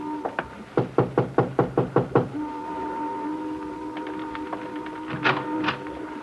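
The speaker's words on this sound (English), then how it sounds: "Want to knock?" A rapid run of about eight firm knocks on the door of a run-down house, then fainter scattered taps over a sustained tonal drone of old-time radio drama scoring, with no talking.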